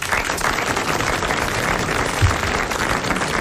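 A short burst of studio audience applause fills the room, dense and steady, with no talk over it.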